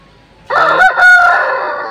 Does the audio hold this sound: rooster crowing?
yes